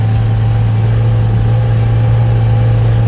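A car engine drones steadily and loudly on a steep mountain road between Oriental and Occidental Mindoro, a constant low hum from inside the vehicle with no voices.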